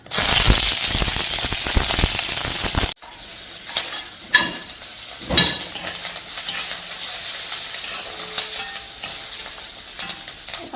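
Cumin seeds and onion hit hot oil in a pan, a loud dense sizzle that cuts off abruptly, then settles into a softer crackling fry with a few sharp pops and stirring clinks.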